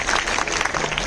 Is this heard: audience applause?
yes